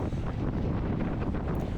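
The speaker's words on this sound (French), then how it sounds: "Le vent était de face" Strong headwind buffeting the microphone during a bicycle race, a loud continuous low rumble filling the whole moment.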